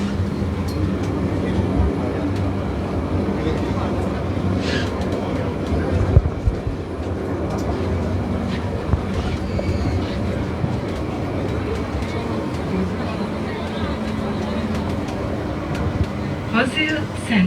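Inside a Métro Express light rail train riding between Quatre Bornes and Rose Hill in Mauritius, a steady loud rolling rumble and hum continues throughout, with occasional clicks and rattles, and faint voices underneath.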